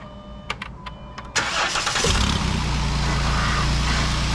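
A 2009 Jeep Wrangler Rubicon engine cranks after a few clicks and light clatter, catches and settles into a steady, loud close-up idle with a faint rattle.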